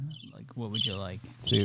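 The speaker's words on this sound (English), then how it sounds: "I got the crickets still." A cricket chirping effect fired from a podcast soundboard, with quick high repeated chirps running under and between talk from nearby voices.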